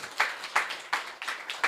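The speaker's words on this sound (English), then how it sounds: "Big applause." Sparse clapping from a small audience at a talent management conference session, a handful of distinct claps at an uneven rhythm, fairly quiet.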